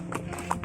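Horse hooves clip-clop in a short, uneven series of soft taps, close by and moderately loud, during a pony ride in Aru Valley, Kashmir.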